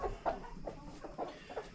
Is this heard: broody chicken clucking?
yes